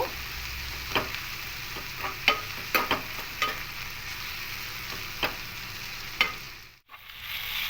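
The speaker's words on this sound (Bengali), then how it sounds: "তেলের সাথে দিয়ে হালকা একটু চিচিঙ্গাগুলোকে ভেজে নেব" Ridge gourd pieces with a little turmeric fry gently in oil, a soft steady sizzle punctuated by irregular clicks and scrapes of a stirring spatula.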